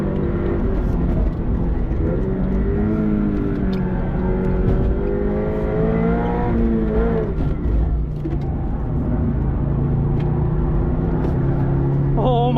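A Subaru BRZ or Toyota GR86 with a clutch-type limited-slip differential accelerates hard on a race track, its engine note climbing steadily and continuously for several seconds with no talk.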